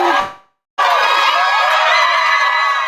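A crowd outside a courtroom erupts after a civil verdict, a brief cheer that fades to silence, then a loud, sustained wall of cheering, whooping and yelling from many people nearby.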